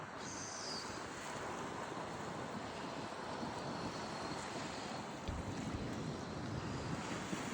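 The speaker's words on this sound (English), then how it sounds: "The wind's definitely picking up and getting colder." Steady outdoor wind blowing in cold early-morning air, a continuous broadband rush with slight gusting and a small surge near the end, no voices.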